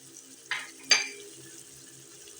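Potatoes tipped into a pan for an egg and potato curry, giving two short sizzling bursts of frying with a faint steady crackle between them, close and otherwise quiet.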